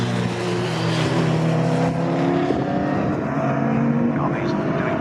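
Caterham racing cars in a Magnificent Sevens series race at Snetterton drone loudly together, several engine notes overlapping and shifting in pitch as the pack runs down a straight, continuous throughout.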